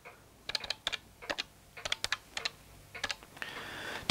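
Buttons tapped on an old calculator, a quick irregular series of small clicks in short bursts, close and fairly quiet with no talking.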